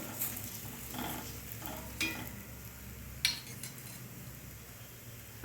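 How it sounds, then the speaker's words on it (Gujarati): A mixed vegetable paratha roasts in oil or ghee on a griddle, with a soft continuous sizzle and occasional light metallic clinks of a spatula turning it, quiet and close, with no talking. "હવે આપણે બીજી સાઈડ ફેરવીશું અને ત્યાં પણ આપણે તેલ અથવા ઘીથી શેકવાનું."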